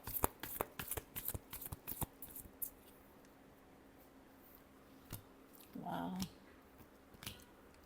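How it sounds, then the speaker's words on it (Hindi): Tarot cards being shuffled, a flurry of sharp riffling snaps at the start, then quieter handling and a short rustle near the end. "लियो के लिए लास्ट शफल।"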